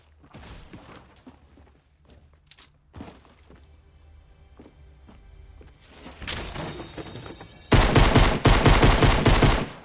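Shotgun gunfire in the battle game Fortnite: sharp, loud blasts ring out first as scattered single shots, then as a dense burst of rapid repeated shots that builds to the loudest stretch near the end.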